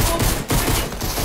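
Dense, continuous gunfire in the Fortnite video game, a loud, steady barrage of rapid shots with a short gap partway through, and no one speaking over it.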